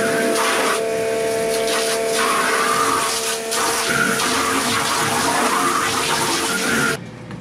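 Water sprayed from the top down through the coil of a commercial ice machine during cleaning: a steady, loud broadband hiss of spray and splashing that runs continuously for about seven seconds, then cuts off abruptly near the end.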